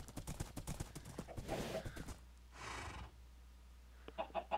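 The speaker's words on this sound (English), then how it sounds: "You can really travel a good distance on these horses." Horse hooves clip-clop in Minecraft, a rapid run of even hoofbeats under game ambience, then a softer patch and a few brighter clucking blips near the end.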